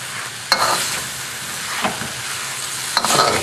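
Onions and eel tossed in a hot pan for a Vietnamese dish give a steady close sizzle, with three sharp scraping stirs at about half a second, near two seconds and past three seconds.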